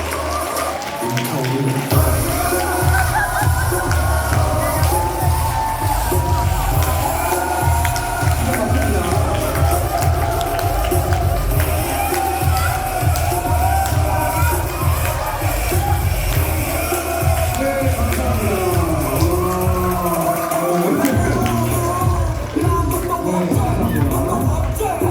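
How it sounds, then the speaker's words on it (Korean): At a Korean business seminar, the audience cheers and whoops for a presenter's entrance, a dense and loud crowd roar that stays constant for the whole stretch. "이샛별 대표님을 박수로 모시겠습니다"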